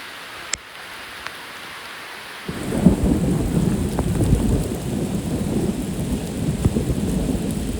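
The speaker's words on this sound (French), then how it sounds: "C'était la pire pluie que je me suis mangée de ma vie." Quiet start, then a sudden heavy downpour roars in and keeps going steadily, with rumbling thunder underneath.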